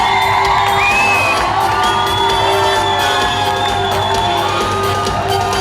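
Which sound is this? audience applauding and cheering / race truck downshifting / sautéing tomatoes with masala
audience applauding and cheering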